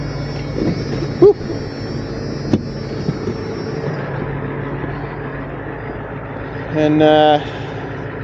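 A tow truck's power take-off hums steadily beneath a broad engine drone, with a couple of sharp metallic clanks early on and a brief loud tonal whine near the end; someone speaks briefly over it.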